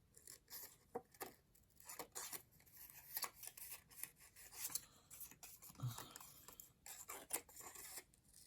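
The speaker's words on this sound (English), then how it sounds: "I typically just move the paper and not really my scissors all that much" Scissors snip through paper in quick, irregular bursts of crisp rasping cuts, quiet and close, with short pauses between strokes and no talk.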